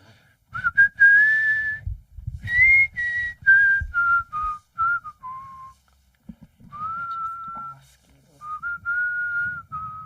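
A person whistles a slow wavering melody close into a microphone, with held and gliding notes broken by short pauses and audible breath puffs hitting the mic underneath.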